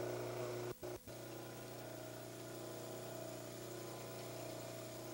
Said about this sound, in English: Trim the backs in as far as the hamular notch area